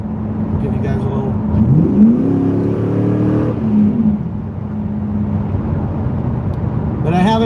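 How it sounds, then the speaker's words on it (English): A car engine with its exhaust cutout opened revs in a couple of rising, swelling pulls, then settles to a steady idle, with people talking over it. "I have an exhaust cutout on it, so I can turn the exhaust up and down"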